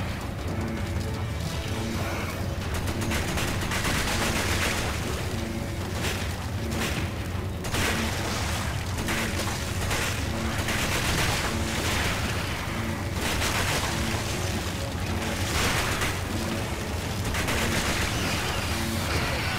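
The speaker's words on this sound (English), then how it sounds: "I shot it point blank with the shotgun" Gunfire from the Resident Evil 5 video game, including shotgun blasts, on the final level: dense, continuous loud bursts and booms running throughout with no pauses.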